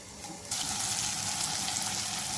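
Tomatoes sautéing in a pan let out a soft sizzle that swells suddenly into a louder, steady hiss and stays strong without any talking.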